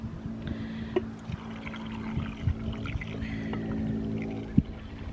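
Hot liquid poured over eggs packed in a jar, a soft, faint trickle and gurgle running steadily for several seconds with a few small clinks of glass, no voices.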